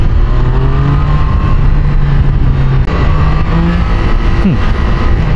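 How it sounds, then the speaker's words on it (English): Triumph Daytona 660 motorcycle engine held at steady high revs with sustained harmonic drone and a rising pitch sweep near the end, loud and close with constant road and wind noise. "Motor ni kau kena rev matching lebih sikit lah."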